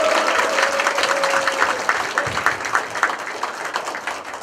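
A crowd at a Korean labor union federation merger signing ceremony and press conference breaks into sustained, lively applause, a dense patter of many hands clapping for over four seconds, fairly loud and near.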